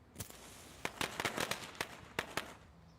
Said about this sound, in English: Darn kids throwing firecrackers again.